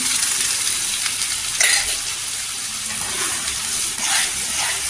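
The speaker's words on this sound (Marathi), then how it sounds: "तेलावर परतून घ्यायचं एक दोन मिनटं तेलावर परतून घ्यायचं" Cashew gravy with spices frying in hot oil for paneer masala, a loud continuous sizzle close by, with a couple of brief stirring scrapes.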